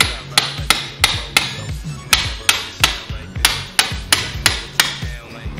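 Hammer blows knock on old fuel injector bolts of a Nissan VG30 engine, about a dozen sharp metallic strikes in a steady, fairly quick rhythm, close and loud with no talking.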